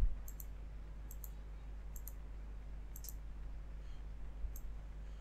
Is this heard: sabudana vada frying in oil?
no